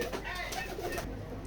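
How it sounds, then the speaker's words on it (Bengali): Pigeons coo at a pigeon farm, giving soft, low, repeated calls close by against a steady background murmur. "আমরা আমাদের এই কবুতরের খামারে দেশি বিদেশি সকল ধরনের কবুতর লালন পালন করে থাকি"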